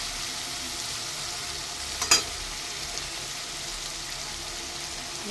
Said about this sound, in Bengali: পেঁয়াজটা আমার ভাজা ভাজা হয়ে গেছে, এর মধ্যে আমি দেবো রসুন বাটা, রসুন, আদা আর কাঁচা লঙ্কা।